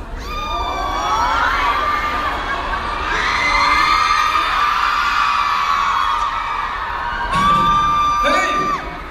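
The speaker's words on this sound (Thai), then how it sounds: "ขอบคุณนะครับที่มาเชียร์กันเยอะขนาดนี้นะครับ" At a live celebrity event in a Bangkok shopping-mall hall, a large crowd of fans screams and cheers in loud, high-pitched waves that rise, hold and swell again near the end.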